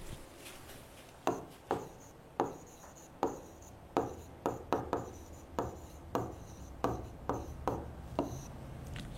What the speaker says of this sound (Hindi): यहीं लिख देते हैं।